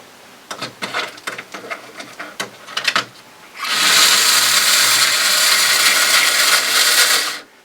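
A 1976 AFX slot car motor with worn tires runs at close range, a steady high-pitched electric whine lasting several seconds after a run of light clicks and handling knocks.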